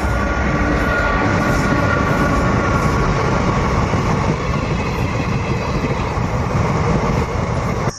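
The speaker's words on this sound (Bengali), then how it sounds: "ট্রেন আসছে" A train rolls past on a railway track close by, producing a loud, steady rumble and rattle that fills the whole stretch without a break.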